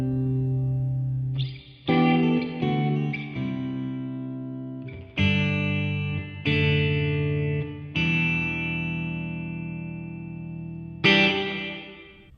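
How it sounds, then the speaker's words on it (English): Freeverb, a free reverb effect set very wet, washes a run of sustained instrument chords; each one starts loud and decays into a long, smeared tail, with no talking. "This is the cheapest reverb."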